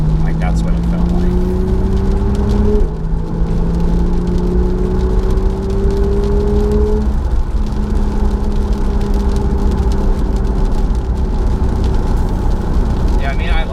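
A 2018 Porsche 991 Targa 4 GTS drones from inside the cabin, a steady engine and exhaust hum rising gradually in pitch through gear changes, with people talking over it.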